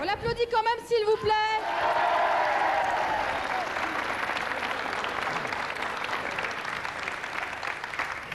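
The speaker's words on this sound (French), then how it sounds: "On l'applaudit quand même, s'il vous plaît." Audience applause at a French television game show, starting after a brief stretch of voices and swelling into a loud, steady, dense round of clapping that sustains for several seconds.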